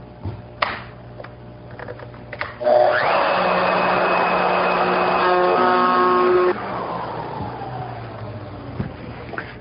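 Woodworking router fitted with a CMT bowl bit cutting into a wooden bowl blank: a loud, steady high-pitched motor whine rising as the bit engages, a sustained cutting roar for several seconds, then winding down as the motor coasts off.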